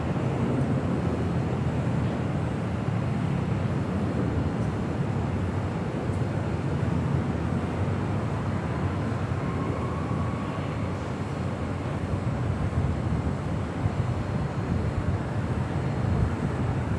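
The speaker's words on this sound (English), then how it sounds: "Air New Zealand Flight 6 coming in from Auckland, the 777-300ER" An Air New Zealand Boeing 777-300ER arriving at Los Angeles International Airport, a steady distant jet roar rumbling continuously for the whole stretch with a slight swell midway and no talk.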